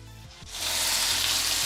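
Chicken sizzles in masala in a hot pan for a Murg Musalam, with a loud, steady, bright frying hiss that swells after a brief quieter moment, close up.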